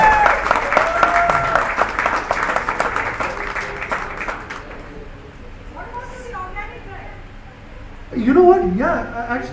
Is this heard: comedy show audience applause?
yes